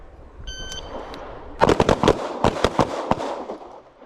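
Pistol gunshots on an outdoor shooting range in Hawaii, a rapid string of about a dozen sharp cracks, some close and loud, others fainter, after a brief quiet spell with faint beeps.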